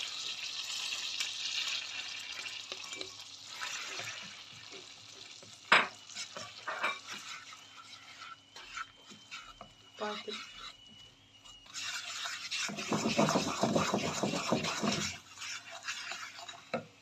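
Mashed garlic with chili, salt and dried coriander is stirred and frying in a pan, giving a steady hissing sizzle, a sharp utensil clink, scraping stirs and a louder sizzling surge near the end, close by.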